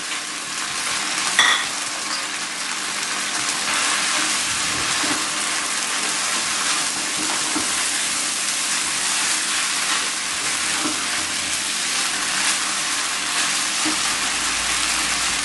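Chicken and eggs frying in a pan give a steady, close, broad sizzle that runs unbroken, with a few faint clinks of utensils against the pan.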